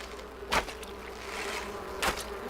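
Bees buzz in the video game Enshrouded, with two brief, louder buzzing passes over a steady low hum of game ambience and no voices.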